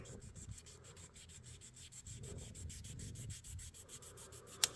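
An old orange-handled knife being sanded by hand with 2500 grit sandpaper: steady, close rhythmic back-and-forth rubbing strokes, faint and even, with a brief sharp tick near the end and no talking.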